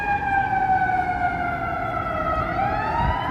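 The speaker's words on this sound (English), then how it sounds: "There's a siren going by." An emergency vehicle siren wails past on a Chicago street, loud and sustained with a slowly falling pitch as it goes by, over low traffic rumble.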